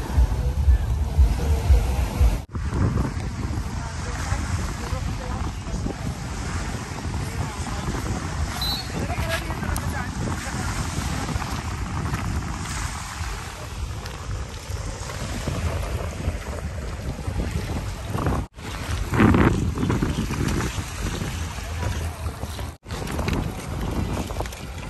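Sea wind and waves around a boat make a steady, moderate wash of rushing air and water that swells and eases, with brief breaks and faint voices underneath.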